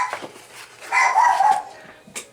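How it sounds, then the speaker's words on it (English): Dog barks in a short indoor burst: a couple of sharp yips at the start, a louder sustained bark-whine in the middle, and one more brief yelp at the end, moderately close. "Sorry for my dog barking."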